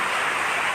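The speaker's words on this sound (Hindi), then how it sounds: "देखें कैसी बारिश हो रही है" Heavy rain pours down outdoors as a dense, even hiss that holds steady through the brief moment with no break.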